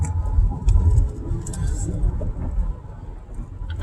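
A car passes on a street, a low engine rumble swelling and then easing off over a few seconds, with pigeons cooing faintly nearby.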